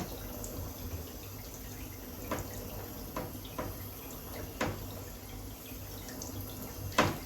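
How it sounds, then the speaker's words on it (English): Water trickling and splashing from a tap or hose onto a Bichon Westie cross's face during grooming, a steady low flow with a few brief drips and splashes standing out, close by and fairly quiet. "I'll just put a bit of water on your face."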